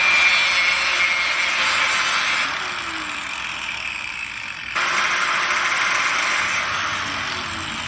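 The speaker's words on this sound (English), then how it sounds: "let's go grind this down a little more so it fits" Grinder shaping a modified slide puller claw during an OM647 engine rebuild, a steady mid-loud abrasive whir that dips briefly in the middle before resuming, with no talking.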